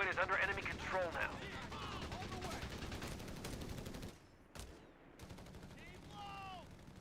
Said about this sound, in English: Heavy machine gun has been More requisitioned. MGs are on the field.